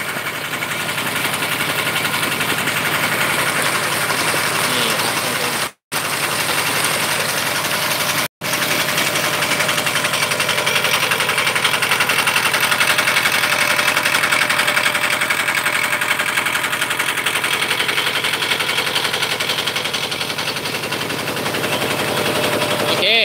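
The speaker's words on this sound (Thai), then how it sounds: "เสียงเครื่องดังมาก" A loud engine runs continuously up close beside a fish pond, a harsh rattling drone with rapid knocking that barely changes, broken by two brief cuts.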